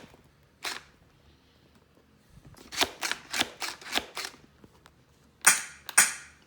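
Gunfire in the BRX Arena mobile phone game: one shot, then a run of about six evenly spaced quick shots near the middle, and two final sharp bursts, all moderately loud with no talking.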